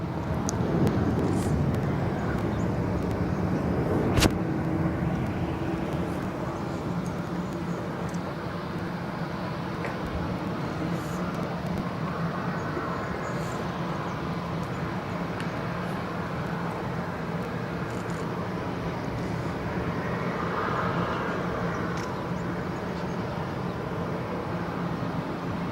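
Air Baltic airliner departing Barcelona airport, a steady broadband jet roar sustained at moderate, distant level throughout, with no talk over it.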